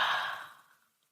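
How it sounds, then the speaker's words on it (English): A single deep, relaxed exhale during a guided body-scan relaxation, a soft breathy rush that starts fairly loud and close and fades away to silence within a second. "take a deep breath in and let your belly grow bigger, bigger, bigger"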